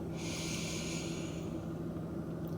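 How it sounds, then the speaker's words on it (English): A slow, deep grounding breath drawn in during a guided relaxation, a steady close airy hiss and soft snort lasting a few seconds, heard alone without talking. "let's just start with 3 grounding deep breaths"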